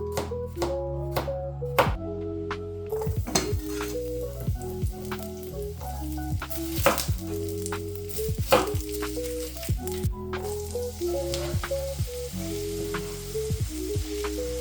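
Garlic cloves fry in olive oil in a pan with a light sizzle and occasional taps, partly masked by steady tonal music playing throughout.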